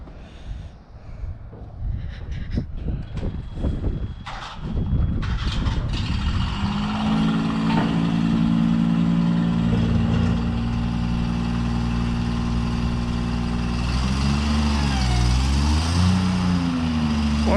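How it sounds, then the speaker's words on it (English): A tractor sits on a slippery cement slope covered in black ice outside a sheep barn. The engine rumbles close and steady, then revs and labours near the end, after some early clunks and knocks. "That tractor won't even back up that hill."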